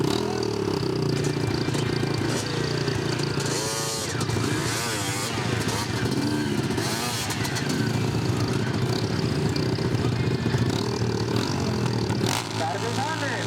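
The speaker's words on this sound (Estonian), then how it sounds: "Kui see mootorratas ära sõidab" A motorcycle at a 2010 hill-climb event revs hard and continuously as it rides off uphill through mud, its loud, rasping engine note dominating, with voices of onlookers mixed underneath.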